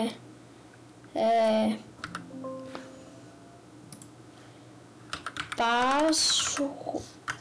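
Scattered clicks of someone typing on a computer keyboard, with brief tonal voice sounds breaking in twice.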